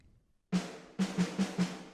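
A snare drum with a softened, blunted attack hits once, pauses, then four more quick hits follow in a steady rhythm, close and clear.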